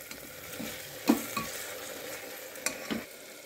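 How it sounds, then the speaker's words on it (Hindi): Masala with softened tomato frying in a pan over medium flame, a steady sizzle with a few stirring scrapes and knocks, close and moderately loud with no talk. "ये मीडियम फ्लेम पर मसाला को भूनिएगा।"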